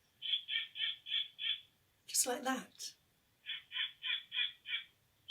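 A voice imitates a snowy owl's laughing call in a children's story, giving two bouts of five rhythmic hooting pulses separated by a short spoken phrase.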